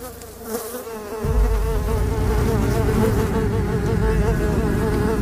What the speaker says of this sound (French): Oh, des mouches, ça sent la mort.